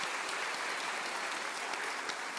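A church congregation applauds during a service, producing steady, moderately distant clapping from many hands, fairly soft overall and continuing evenly with no voices on top.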